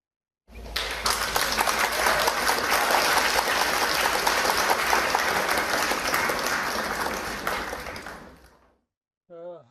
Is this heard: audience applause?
yes